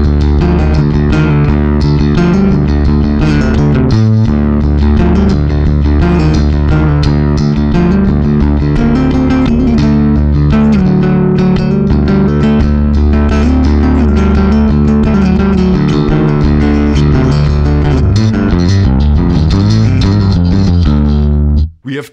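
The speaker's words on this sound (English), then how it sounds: "let's hear the SGT, which is the built-in distortion" A distorted bass riff through an Ampeg SGT built-in distortion plays alone, thick and gritty with a sustained fuzzy low end, steady rhythm throughout, cutting off abruptly at the end.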